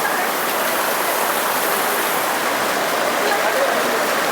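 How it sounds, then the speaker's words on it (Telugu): Rain falls in Mangaluru, Karnataka, in a loud, steady, unbroken hiss with no pauses. "వాన కూడా స్టార్ట్ అయింది"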